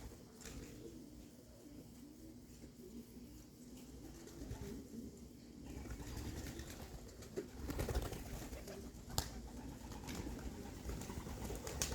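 Young pigeons coo softly in a backyard loft, low murmuring calls that repeat under faint ambient noise, with a few rustles and wing sounds.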